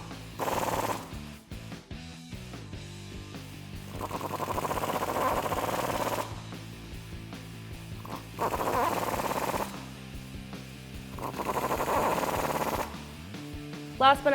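Lift kit bolts on a 2-door Jeep Wrangler JK are tightened with a 15mm socket and extension, giving several loud, rattling mechanical bursts of a few seconds each, separated by short pauses.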